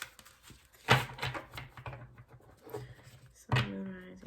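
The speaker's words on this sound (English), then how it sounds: "Oh, that was a better shuffle." Large oversized tarot cards are shuffled by hand in two quick riffling bursts near the start and end, with softer card rustling between them, close and fairly quiet.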